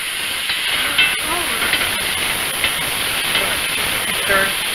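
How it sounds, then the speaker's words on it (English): Steady bright hiss of vegetables sizzling in a hot pot, continuous throughout, with faint voices and small clinks now and then. "that's the sizzling you want right there"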